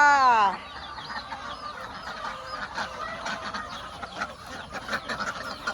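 Chickens and ducks in a coop cluck and quack, a loud call at the start followed by scattered softer clucks and honks throughout, with faint human sounds in the background.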